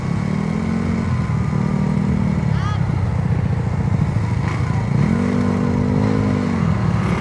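Two motorcycles, a Yamaha Raider FI and a modified Mio, rev and race, their engine drones rising and falling in pitch close by, with voices talking over the steady roar.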